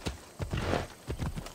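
A horse in Assassin's Creed Odyssey trots with rhythmic hoof clops close by, a few evenly spaced footfalls with a brief breathy snort or whinny between them, heard alone.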